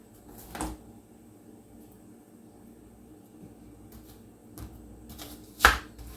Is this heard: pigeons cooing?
no